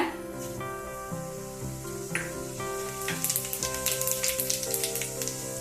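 Fennel seeds crackle and sizzle in hot oil, the popping growing busier and louder toward the end, over a steady background hum.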